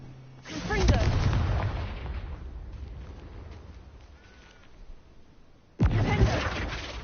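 A Confringo fire blast spell cast in the Hogwarts Legacy video game: two sharp, booming bursts several seconds apart, each with a rumbling low tail, and the second cutting in abruptly.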